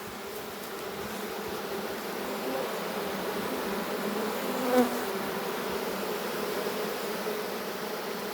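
A swarm of honey bees buzzes inside a trap box, a dense, loud, continuous drone that holds steady from start to finish.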